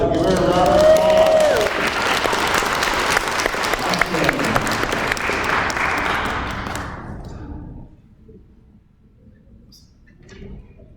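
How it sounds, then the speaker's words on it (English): A pageant audience breaks into loud, sustained clapping that swells and then fades out after about eight seconds, leaving near silence with faint stray sounds. "So give her a round of applause."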